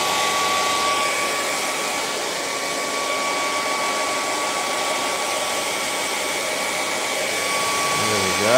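Hair dryer blowing steadily on a painting in progress, a loud continuous whirring rush held close to the microphone for several seconds, with a faint whine and slight shift at the end.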